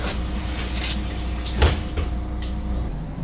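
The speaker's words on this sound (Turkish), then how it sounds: "Kapı seslerini gördünüz." Door mechanisms on a Scania 11M city bus in OMSI 3 open and close: a pneumatic hiss and sliding thuds over a steady low engine hum. One firm clunk stands out in the middle.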